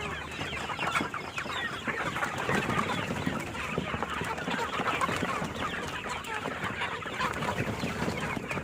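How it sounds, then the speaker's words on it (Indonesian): Chickens clucking steadily while being fed azolla as livestock feed, a busy, continuous chatter of several birds at close range outdoors. "Nah, ini ayam."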